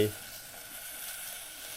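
Vegetable oil hisses and sizzles steadily after hitting a hot, dry pot on a gas stove, a brief loud splash at the start settling into a constant bright crackle.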